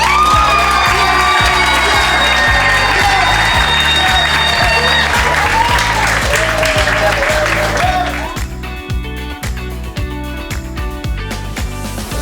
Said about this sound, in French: J'aimerais qu'on applaudisse tous très fort